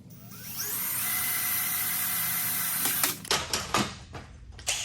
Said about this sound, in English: I'm using a really small drill bit for my pilot hole.